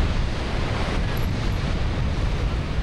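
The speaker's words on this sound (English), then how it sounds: "As waves crash along the coastline in Yachats" Ocean waves crash along the rocky coastline at Yachats on the Oregon coast, a loud, continuous roar of surf mixed with heavy wind buffeting the microphone.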